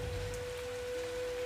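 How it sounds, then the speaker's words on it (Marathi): Steady drizzling rain patters on a surface, a soft continuous hiss of fine drops with no voices, joined by a thin steady tone. "रिमझिम रिमझिम बरसताना"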